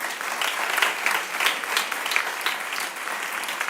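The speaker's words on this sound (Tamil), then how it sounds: "அமர்ந்திருக்கிற டாக்டர் அமுதன் அவர்களுக்கு உங்கள் கரகோஷங்கள்" An audience at a Tamil debate event breaks into sustained applause, many hands clapping together in a steady, dense patter with no talking over it.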